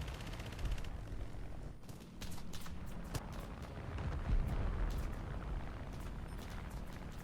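Machine gun fire in a video game, a dense, continuous rattle of rapid shots with booming blasts mixed in, sustained over several seconds.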